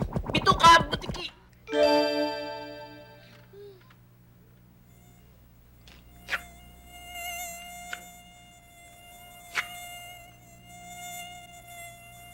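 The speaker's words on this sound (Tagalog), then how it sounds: "Paalsin nyo nga yung lamok dito!" A mosquito buzzes as a thin, steady whine that drones for several seconds, punctuated by a few sharp clicks, after a brief, strained vocal cry at the start.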